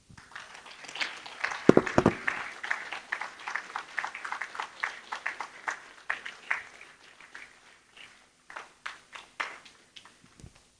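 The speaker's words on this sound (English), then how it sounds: "Please keep the applause going" Applause from a business luncheon audience, a dense burst of clapping that peaks early and then thins into scattered, fading claps, fairly close and moderately loud with no talk.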